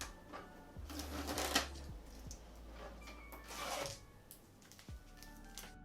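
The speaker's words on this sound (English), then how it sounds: "we're going to remove this tape" Packing tape is peeled off an Epson SureColor 170 printer, several crackling rips in short bursts at close range, separated by soft handling knocks and thumps.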